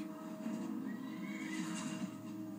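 A horse whinnies in the video game Skyrim, a clear drawn-out neigh over faint hoof clip-clop, fairly quiet and alone.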